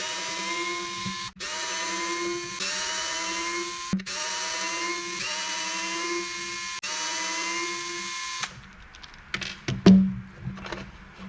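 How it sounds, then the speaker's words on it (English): Small electric 2mm hex driver whirring in several sustained bursts with brief pauses between them, backing out the six screws on a Losi Promoto MX rear brake disc, ending with quieter clicks and handling noises. "I'm going to swap over to my 2mm driver. We're going to go after these 6 screws"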